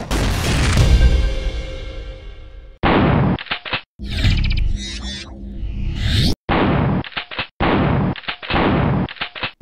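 A sequence of first-person shooter video game shotguns fires, each a sharp, loud blast followed by pump or reload clacks and a ringing tail, several distinct shots separated by brief silences.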